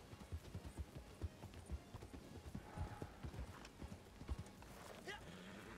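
Horse hooves clip-clop in the video game Red Dead Online, with a steady run of close, rhythmic thuds and a voice talking over them.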